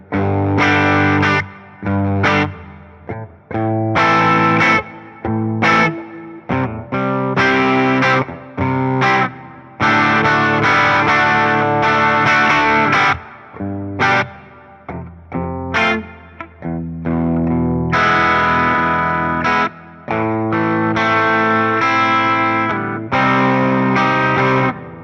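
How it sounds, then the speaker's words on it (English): An electric guitar runs through a Fender Tone Master Pro small hall reverb, playing distorted, choppy chords and riffs with short bursts and pauses, loud and alone. "And here's the small hall reverb."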